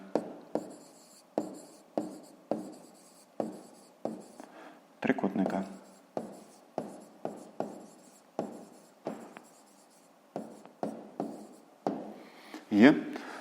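A pen scratching out a handwritten answer to a fifth-grade maths exercise on paper, in short regular strokes about once a second. It is quiet and close, with a few brief pauses and a teacher speaking softly.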